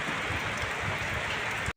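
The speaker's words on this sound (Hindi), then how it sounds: "आप देख सकते हैं बहुत तेज़ से बारिश थी" Heavy monsoon rain on the first day of Sawan, heard from a rooftop. It is a dense, steady roar of downpour that continues without a break until it stops abruptly.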